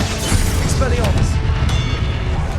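Expelliarmus spell cast in Hogwarts Legacy on Xbox Series X: a loud, dense rumbling burst of magical effects with crackling pops and low booms, continuous through its short length.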